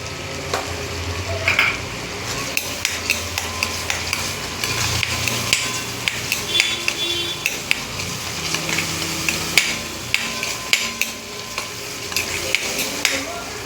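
Spices with turmeric, Malvani masala and Kashmiri red chili powder sizzling in a pan for mutter paneer gravy, with steady frying hiss and repeated scraping stirs and clinks of a spoon, close and continuous, no voices.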